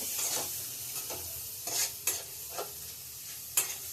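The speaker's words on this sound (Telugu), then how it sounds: "బాగా బాయిల్ అవుతున్నాయి మిర్చి, ఆనియన్, వెల్లుల్లి, అల్లం ముక్కలు." Chilies, onion, garlic and ginger pieces fry in butter with a continuous sizzle, while repeated stirring scrapes and clinks of a spoon against the pan sound close by.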